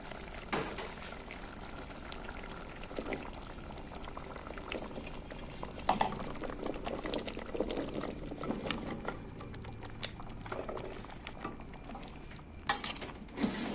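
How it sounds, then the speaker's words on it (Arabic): Chunks of taro are added to a pot seasoned with salt, black pepper and cumin and stirred, giving a soft, continuous sizzle and bubbling with occasional faint clinks of a utensil, close and quiet. "هحط القلقاس ونقلبه تقليبه كده"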